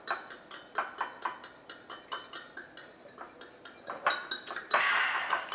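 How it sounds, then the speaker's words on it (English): A whisk beats veganaise sauce in a bowl, tapping and clinking against the sides in a quick, steady rhythm that grows louder toward the end, close and without talk. "I'm just gonna whisk it long enough"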